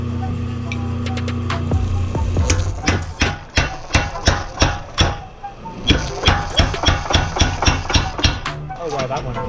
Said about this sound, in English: Hope the power hammer's doing the work.